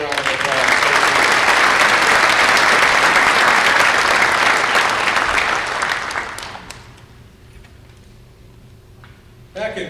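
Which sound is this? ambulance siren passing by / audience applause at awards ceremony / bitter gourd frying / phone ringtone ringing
audience applause at awards ceremony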